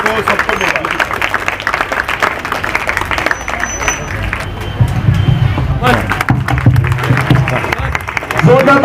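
Applause from a crowd at a gathering in Aurangabad, dense clapping with a hum of voices and chatter mixed in, steady throughout and swelling toward the end.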